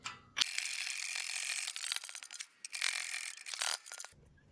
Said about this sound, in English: taking some tube like that and putting this in my press and see if I can press it on